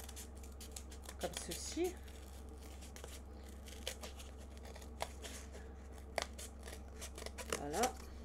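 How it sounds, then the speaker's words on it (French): Scissors cutting craft foam into a foot shape for a Santa figure made from a bottle, with soft intermittent snips and rustles near the microphone over a steady low hum, while someone speaks French at moments. "Là, je vais couper donc la forme du pied"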